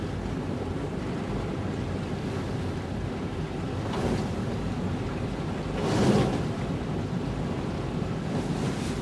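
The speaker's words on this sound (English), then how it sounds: "Here we go, driving through the water" A car ploughs through flood water covering a road in east-central Massachusetts, giving a steady rushing, splashing wash with wind buffeting and a couple of louder surges.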